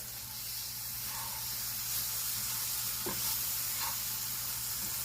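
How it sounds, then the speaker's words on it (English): A peach cobbler ice cream mixture on low heat is stirred lightly: a steady, close sizzling hiss runs throughout, with a brief scrape of the stirring utensil partway through. "And now I'm going to lightly stir this."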